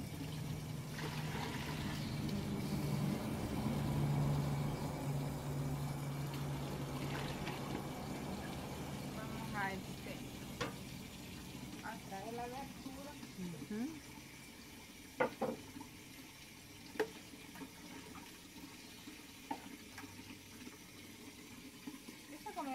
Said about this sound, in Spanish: aquí estamos viendo que está echándole el agüita